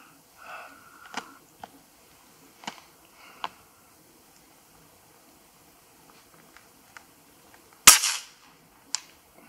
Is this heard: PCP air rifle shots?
yes